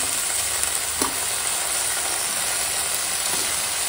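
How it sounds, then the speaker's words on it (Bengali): Water and washed Malabar spinach go into a hot pan for a rohu fish head curry, setting off a steady close hiss and sizzle with a few brief clinks and stirring clatters. "এখন দিয়ে দেবো জল। এখন দিয়ে দেবো এই যে ধুয়ে পরিষ্কার করা পুঁই শাক,"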